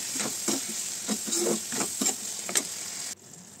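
Potatoes and tomatoes with spices fry on a low flame for a Bengali banana-flower curry, a steady soft sizzle broken by repeated scraping stirs, ending in quieter hiss.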